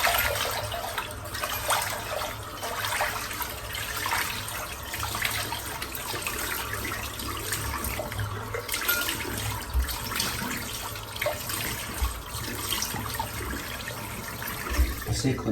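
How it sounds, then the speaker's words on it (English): Cold tap water runs steadily into a sink in a bathroom after a head shave, a continuous splashing hiss under occasional talk. "So the cold water running now."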